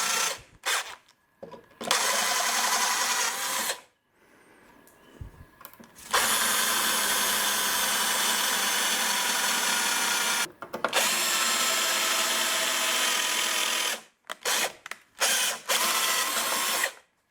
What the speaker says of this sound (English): this actually back behind here is pretty thick metal you're drilling into